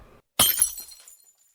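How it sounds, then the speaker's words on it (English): A glass vase hits the floor and shatters in one sharp crash, followed by a short tinkling decay of scattering shards, then quiet. "His mother's favorite vase. It lay broken, shattered on the floor."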